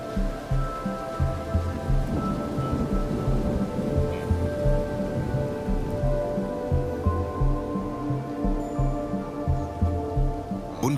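Steady rain falls in an African savanna, a continuous dense wash with low rumbling thunder underneath, moderately loud and unbroken, with no voices.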